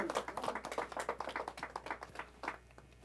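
A church congregation claps in praise during a Spanish-language Messianic Torah service, a quick, steady run of sharp hand claps from many people in a room, moderately loud and close, with no talking.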